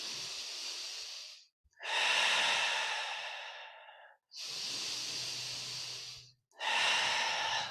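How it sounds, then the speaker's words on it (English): Deep, slow breaths during a yoga session: four long, loud airy inhales and exhales in steady rhythm, separated by brief pauses, close to the ear with no talking. "Just a couple more breaths."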